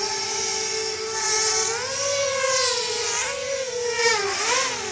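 A DRS180Pro FPV racing drone flying nearby, a loud high-pitched motor whine whose pitch rises and falls continuously with throttle changes over a steady buzzing hum.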